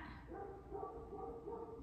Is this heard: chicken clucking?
no